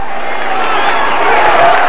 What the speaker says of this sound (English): The crowd loved it.